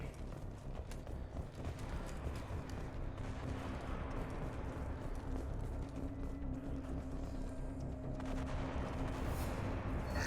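Gunfire in Mass Effect 2, a continuous rattle of shots with a sustained tone and a brief louder burst toward the end, moderately quiet and steady throughout.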